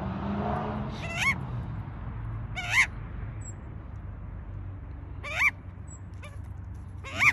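An Australian magpie calls in the outback during hand feeding. Four short warbling calls come at uneven intervals, moderately close, over a low steady background rumble.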